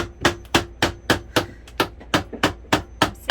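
Steady hammer blows ring out in a cramped bathroom during a DIY Dometic toilet replacement, about a dozen sharp, loud strikes in a fairly even rhythm with no talking.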